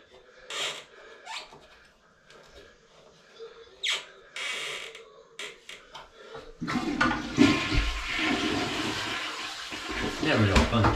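A toilet is flushed in a bathroom under remodel just before it is removed, a loud rushing, gurgling surge of water that starts partway through and keeps running, after scattered knocks and clatter.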